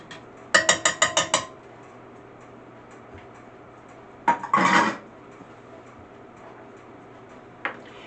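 Two eggs being mixed in a bowl for raspberry cinnamon roll dough, a quick run of about six clinking taps, then a short scraping clatter, and one last faint tap after a pause.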